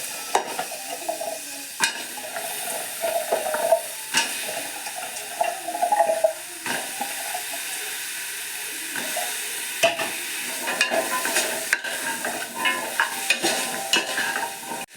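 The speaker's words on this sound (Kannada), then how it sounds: "ಸ್ವಲ್ಪ ಎಣ್ಣೆಯಲ್ಲಿ ಹೀಗೆ ಫ್ರೈ ಆಗಲಿ. ಇವಾಗ ಕಟ್ ಮಾಡಿರುವ ತರಕಾರಿನ ಹಾಕ್ತಾಯಿದ್ದೀನಿ." Chopped vegetables for a broccoli vegetable pulao sizzle in oil in a pan while a spoon scrapes and stirs them, steady frying crackle with repeated scraping knocks, close and fairly loud, no talking.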